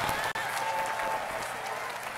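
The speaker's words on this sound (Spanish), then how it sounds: "Levante un aplauso de agradecimiento." A church congregation claps in thanks during a worship service, a sustained dense wave of applause from many people, loud and close, with one brief drop near the start and a faint voice beneath.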